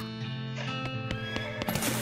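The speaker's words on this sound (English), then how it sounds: "It's the ordinary horse." Horse neighing in the video game West of Loathing, a short whinny with a few hoof clops, fairly quiet and alone.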